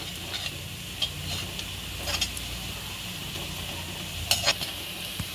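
Kashmiri red chili powder is stirred into frying onions in a pan for restaurant-style chicken rara. A low sizzle continues under occasional spoon scrapes and taps against the pan, close by and moderately quiet, with no talking.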